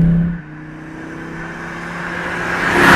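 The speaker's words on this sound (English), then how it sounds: "Five cylinders sound so awesome and weird." A modified Volvo S60 T5 with a five-cylinder engine and aftermarket exhaust hums steadily from inside the cabin, then builds toward a louder rev at the end.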